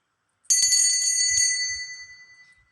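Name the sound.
bell ringing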